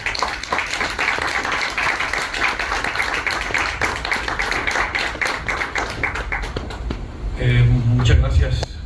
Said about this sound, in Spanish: Un fuerte aplauso para nuestro querido compañero.